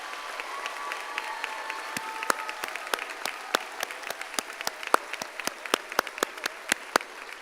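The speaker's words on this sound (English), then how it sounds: "Let's give our students a huge round of applause" At a health professions school commencement, the audience applauds the graduating class with sparse, sharp, distinct claps, a few hands beating in rough rhythm rather than a dense roar.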